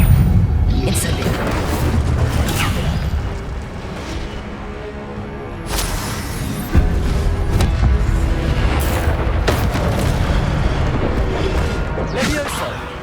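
Incendio fire spell cast in the Hogwarts Legacy video game, a loud fiery burst with whooshing and booming impacts within ongoing spell combat, with a voice speaking intermittently.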